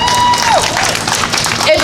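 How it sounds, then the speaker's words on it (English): A crowd at a street march in Richmond, Virginia claps and cheers together, a loud, dense burst with a whistle-like tone cutting through the noise. "Clap it up."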